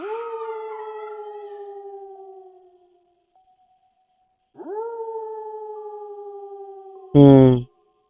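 Dogs howl in long, drawn-out wails, one howl fading out and another rising after a pause, loud and clear against silence, and then a short louder vocal burst near the end.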